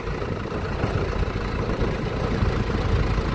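A tractor engine labours while lifting the bed off a Peterbilt truck, giving a steady, rough low rumble throughout with no talk.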